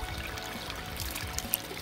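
Water running and trickling through a Ninja rig gold sluice, a faint, steady wash with a couple of small clicks near the end.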